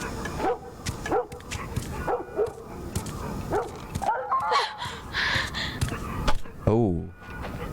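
A dog in The Last of Us barks and yips several times in short bursts, then whimpers, fairly close, with people talking in between.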